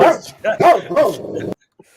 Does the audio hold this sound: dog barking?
yes